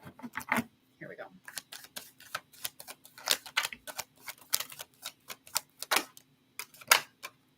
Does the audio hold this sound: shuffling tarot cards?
yes